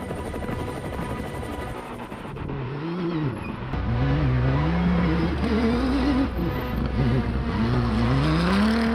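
A Dacia rally car powers across desert dunes, its engine note rising and falling through repeated revs and gear changes, loud and close with a constant rumbling drone.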